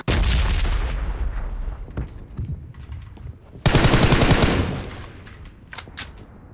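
Loud, dense automatic gunfire in the PUBG Mobile video game, a long rapid stream at the start, a second heavy burst midway, then scattered single shots, with no voices.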